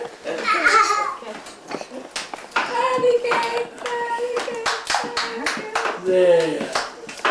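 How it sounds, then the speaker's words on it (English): A group claps in scattered, uneven bursts, mixed with a child's babbling and some laughter close by. "Okay, everybody clap."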